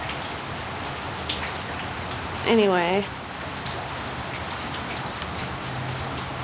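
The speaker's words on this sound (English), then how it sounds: "So, that's California rain. Rainy, wet winter." Steady rain pours down during a wet California winter, a continuous hiss of drops across the whole stretch, with a brief spoken word midway.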